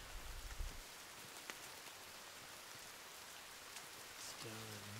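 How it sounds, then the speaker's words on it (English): Rain in the survival video game The Forest falls as a soft, steady hiss of drops that stays faint and even throughout, with a brief low thump near the start and a short voice at the end. "Raining."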